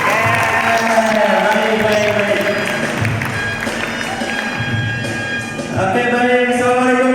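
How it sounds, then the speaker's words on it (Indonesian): Audience of high school students seated in a regional parliament chamber, a continuous crowd roar of clapping and cheering that stays loud and steady throughout, with voices calling out under the applause. "Kasih tepuk tangan."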